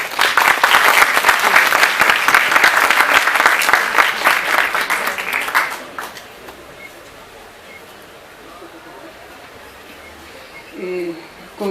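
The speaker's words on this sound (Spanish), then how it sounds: "Por favor, recibámoslos con un fuerte aplauso." Loud audience applause greets a book presentation panel. It fills the room steadily for about six seconds, then fades into a quiet hall with faint murmurs and a brief sound near the end.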